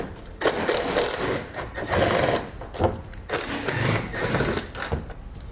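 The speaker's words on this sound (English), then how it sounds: "Grab a T30 Torx bit, and we can pull those 4 screws out." A power driver with a T30 Torx bit backs screws out of a 2019 Ram ProMaster bumper cover, in several short whirring bursts with brief pauses between them, close and fairly loud.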